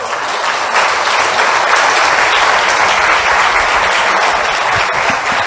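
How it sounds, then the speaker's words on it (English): Audience applause for the jury at the INSAID Awards 2023 ceremony for Slovak interior design, a dense, steady round of clapping from a large crowd that stays loud and even from start to finish. "Please, one big applause for the jury."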